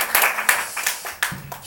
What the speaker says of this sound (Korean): 우리 하나님께 영광 돌리는 박수로